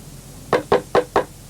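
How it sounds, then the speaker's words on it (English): Four quick, evenly spaced knocks on a wooden door in a narrated children's story, crisp and close against a quiet background, with no talk over them. "Soon there came a knock on the door."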